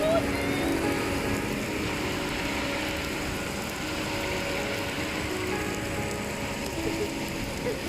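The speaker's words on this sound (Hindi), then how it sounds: "ज़बरदस्त बारिश हो रही है" Heavy rain pours down outdoors in Abu Dhabi, a steady, dense hiss of drops hitting surfaces that holds at an even, loud level throughout.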